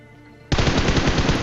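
Automatic gunfire from a video game weapon aimed into smoke, starting abruptly after a quiet moment and continuing as a loud, rapid, sustained burst.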